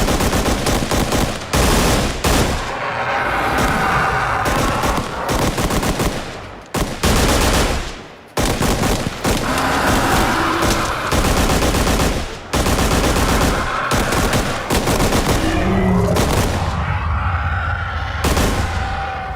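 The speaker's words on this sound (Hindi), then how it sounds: "सिस्टम गोली चलाने के लिए तैयार है। टारगेट देखो और खत्म करो। गोलियां दागने के लिए तैयार।" Machine gun fire from a movie action scene with a Hindi dub, loud sustained bursts of rapid automatic shots broken by brief pauses, dense and close throughout.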